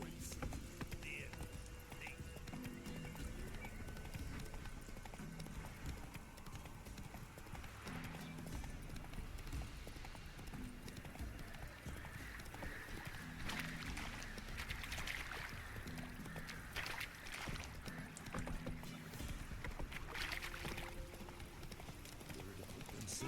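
Roach, the horse in The Witcher 3, gallops along with a steady rhythmic clip-clop of hooves under continuous game ambience and occasional talk.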